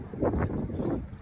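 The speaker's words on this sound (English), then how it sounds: "It's very windy." Cold winter wind blowing outdoors, buffeting the microphone in steady low rumbling gusts that rise and fall without pause for the whole stretch.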